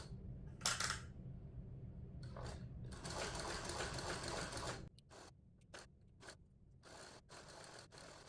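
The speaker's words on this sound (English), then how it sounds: "I'm going to just go and add a seam at 1/8 of an inch around this both of these pieces" A sewing machine runs a 1/8-inch seam around two fabric pieces, its motor whirring in steady bursts with short stops and mechanical clicks between runs, close and clear with no talking.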